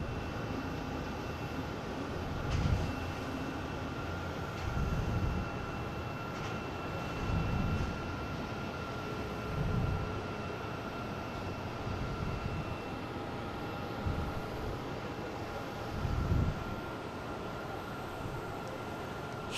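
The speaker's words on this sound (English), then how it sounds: "here comes our first Tampa flight that I've seen anyways coming in. An A321, flight 592." An Airbus A321 airliner arriving at Boston Logan, a steady broad jet roar throughout, fairly distant and even, with faint intermittent low thumps riding over the continuous engine noise.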